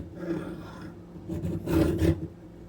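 A hand file rasps across a worn, soft metal ratchet body in a few short, close strokes, scraping louder toward the end.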